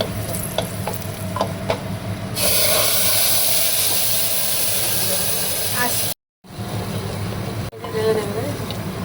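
Onions frying in a pan for browning, a loud steady hiss and sizzle that swells in after a quieter start, cuts out briefly, then carries on.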